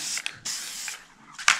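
Bursts of spray from a cheap one-dollar can of spray paint used for terrain painting: three or four short hissing blasts, close and fairly loud, separated by brief pauses.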